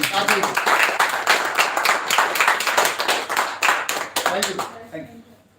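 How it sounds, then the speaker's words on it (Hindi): Audience applause for someone invited on stage at a live personality training session, a loud sustained burst of many hands clapping that fades out near the end, with voices mixed in. "एक बार सुमित जी के लिए दुआ से तालियां हो जाए"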